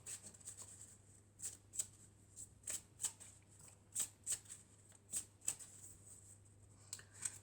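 Elf oracle cards being shuffled by hand: a quiet series of crisp, riffling card snaps at an uneven rhythm, close up, over a faint steady hum.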